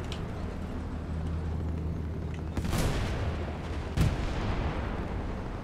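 A tank gun fires at a Panther tank's turret in a video game, two heavy booming blasts a little over a second apart over a constant low engine rumble.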